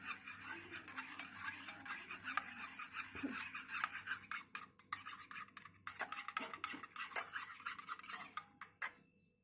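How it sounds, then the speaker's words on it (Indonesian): Egg yolk mixture for no-oven nastar cookies being stirred by hand in a bowl, with steady scraping and clinking of a utensil against the container, close and fairly continuous, with brief pauses near the end. "kemudian kita aduk sampai rata, sampai homogen"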